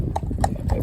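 A cob cross horse walks along, its hooves clip-clopping in a quick, even series of three clear knocks close by.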